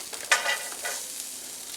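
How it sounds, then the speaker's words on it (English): Carrots and broccoli are stir-fried in a wok, giving a brief scrape and toss of the vegetables followed by a soft hissing sizzle that fades, close up with no talk. "You got to keep that moving in that wok. Stir fry, that's why they call it that."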